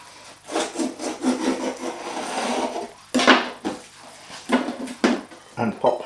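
Knife cutting around pastry in a baking tin, a series of close scraping, rasping strokes in short bursts with brief pauses between them.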